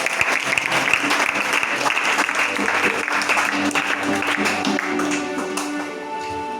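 A church congregation claps continuously and loudly together for several seconds, the dense applause thinning slightly toward the end, with no clear speech.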